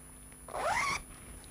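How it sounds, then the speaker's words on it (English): A single quick zip closes a fabric drawer organizer for baby clothes, a short rising rasp lasting about half a second in an otherwise quiet room. "So let's zip it up."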